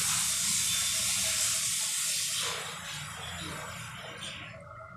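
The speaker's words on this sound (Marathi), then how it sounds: "मग उरलेले तळून घेते मी." Wet Bombay duck (bombil) patties frying in a pan give off a loud, steady broadband hiss and sizzle that eases somewhat partway through, with no voices.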